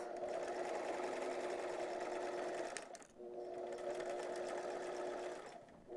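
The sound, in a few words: sewing machine stitching a zipper case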